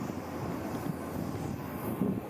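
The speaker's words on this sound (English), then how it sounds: "That's the plane behind us." Airplane at Mombasa airport, a steady broad engine roar holding at even loudness throughout, fairly near, with no talking.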